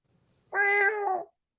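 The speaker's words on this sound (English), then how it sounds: "Your ringtone can be turned all the way down." A single cat meow, used as a phone ringtone, sounds once, clear and fairly loud and drawn out, for under a second, with no talk over it.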